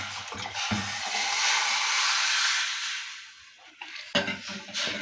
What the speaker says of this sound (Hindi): अपना ऑरेंज जूस डाल देंगे सारा।